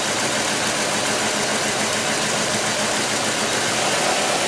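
A car engine idling with a misfire while the number 3 cylinder is unplugged, a dense, steady rumble that stays loud and close without pause.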